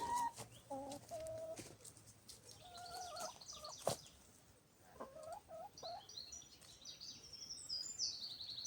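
Chickens cluck and squawk in short bursts in an orchard, with fainter bird calls in the background of a quiet outdoor setting.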